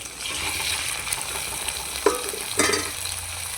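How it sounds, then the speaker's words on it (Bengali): Garlic and ginger paste frying in a pan after onions were browned, a steady close sizzle with stirring, a couple of sharp scrapes or clanks, and no talking. "এখন বাটা মশলা কিছু দিয়ে দিব রসুন বাটা আদা বাটা একসঙ্গে দিয়ে দিচ্ছি"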